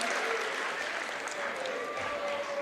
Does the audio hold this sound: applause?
yes